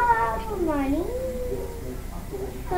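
A tomcat meows loudly at close range with a long, wavering cry that bends down and back up, then trails into lower mewing.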